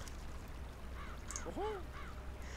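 Cartoonish crows caw in the video game Drawn: The Painted Tower as they attack a farm, a few hoarse, rising-and-falling calls in quick succession over a soft steady background.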